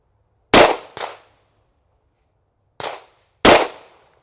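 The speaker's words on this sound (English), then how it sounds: "My first shots with this ALFA FOXTROT." Four sharp gunshots from an Alfa Foxtrot Romulus 2011 pistol crack out at an outdoor range, a quick pair followed by a pause and then another pair, each loud and close with a short decaying echo.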